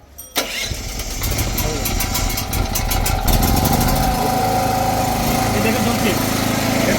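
A 3 kW gasoline generator cranks and fires up, then settles into a loud, steady engine drone close by, with a voice briefly heard over it.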